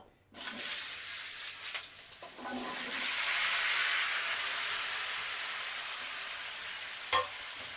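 Pumpkin-like gourd pieces tipped into hot oil with two dried chillies burst into a loud sizzle after a quiet start, the hiss peaking then slowly easing off, with a brief clatter near the end.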